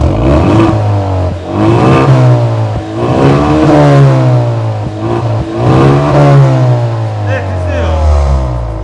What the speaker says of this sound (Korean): 배기음을 한번 좀 들려드리도록 해보겠습니다